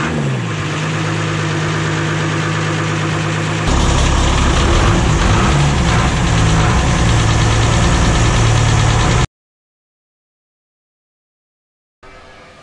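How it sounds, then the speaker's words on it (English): Twin diesel engines on a trawler cruising in Alaska start up inside the engine room, loud close clatter and rumble that steps up as the second engine catches, then settles into idling before cutting to silence. "So here we go into the engine room with our two engines."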